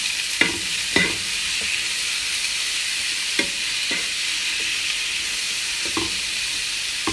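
Tomatoes stirred in a pan for an eggplant and potato dish: a steady sizzle and hiss of frying runs throughout, with a few distinct scraping strokes of the spoon at irregular intervals.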